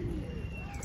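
Pigeons coo on a rooftop, the soft low calls close and steady through a short stretch with faint background noise.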